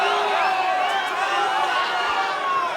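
Rowdy wrestling crowd filling an NWA event arena in Mexico City, a steady, loud roar of many voices with no break across the moment.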